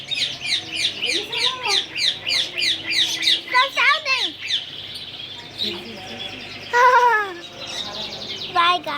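Pet birds, likely parrots, in a pet shop give loud rapid repeated chirps and squawking calls throughout, with a few louder sweeping calls, while a person speaks briefly over them.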